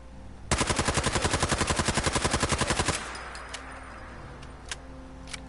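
Rapid automatic fire from an SMG in a video game, a steady burst of about two and a half seconds with evenly spaced shots, followed by faint scattered in-game noises.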